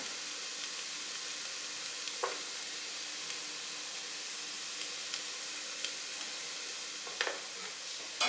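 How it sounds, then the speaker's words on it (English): Garlic cloves sauté with onions in a pan, giving a steady soft sizzle with a few faint clicks and stirring scrapes scattered through, quiet and close, with no voices. "add them to saute with the onions"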